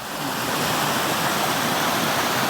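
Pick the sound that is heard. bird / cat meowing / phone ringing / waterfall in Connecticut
waterfall in Connecticut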